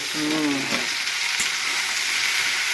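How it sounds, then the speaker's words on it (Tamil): Garlic dosa batter sizzles loudly and steadily on a hot griddle at a roadside dosa stall in Chennai, with a brief tonal hum early on and a single soft knock midway. "ரெண்டு ரெண்டு தோசை போடுவோம்"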